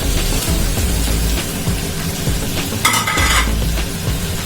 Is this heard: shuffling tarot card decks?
no